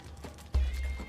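A horse in the Conan Exiles video game gives a short snort or whinny followed by a heavy low thud, close and fairly loud with no talk.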